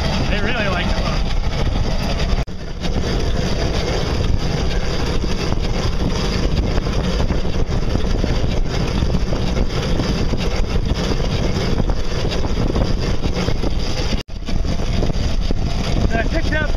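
Small boat outboard motor running steadily with a homemade fiberglass propeller, a continuous close engine drone with water noise throughout and brief dropouts, no speech over it.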